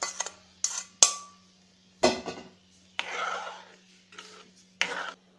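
Mixture stirred in a heavy-bottomed kadhai over low heat while making tamarind chutney: intermittent scraping and clinking strokes of a spoon against the metal pan, close up, in short bursts separated by pauses.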